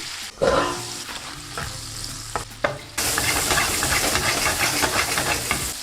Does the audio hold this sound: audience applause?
no